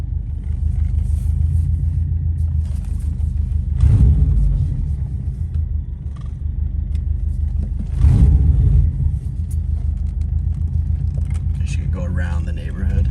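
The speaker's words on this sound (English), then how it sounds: "car's warmed up. Let's take this thing for a spin" A warmed-up Subaru car pulls away and drives off, its low engine rumble steady and close throughout, swelling twice with brief louder surges of acceleration.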